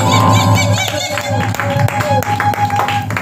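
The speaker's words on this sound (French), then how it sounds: "Si tu es vivant, manifeste-la par ta voix, par des acclamations" A church congregation cheers and acclaims loudly, with clapping, shouting voices and a sustained low musical drone beneath, the whole crowd filling the room.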